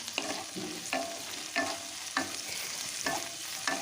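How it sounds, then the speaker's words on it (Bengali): Thinly sliced capsicum fries in a wok with a soft, steady sizzle, while a spatula scrapes and stirs in regular strokes about every half second to a second. "ক্যাপসিকামগুলোকেও নাড়াচাড়া করে বেশ ভেজে নিচ্ছি"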